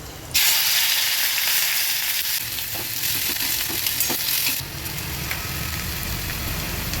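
Finely chopped onion goes into a pan of hot oil with cumin seeds and hits with a sudden loud sizzle that crackles steadily for about four seconds, then settles to a quieter, lower frying hiss. No one talks.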